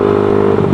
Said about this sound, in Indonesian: semua knalpot di GSX itu berisik.